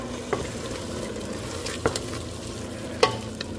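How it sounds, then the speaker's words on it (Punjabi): An onion-tomato masala tempering with tomato paste, green chilli and turmeric sizzles quietly in a pan, broken by three sharp scraping strokes of a stirring spoon against the metal, with no voices. "ਤੜਕਾ ਜਿਹੜਾ ਉਹਨੂੰ ਆਪਾਂ ਹਿਲਾਉਂਦੇ ਰਵਾਂਗੇ"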